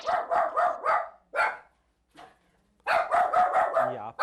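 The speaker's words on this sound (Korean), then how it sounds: "가게 앞 사람들을 향해 짖기 시작하는" A dog at a hair salon barks repeatedly at people in front of the shop, loud and close, in rapid bursts with a short pause, then a final flurry of barks.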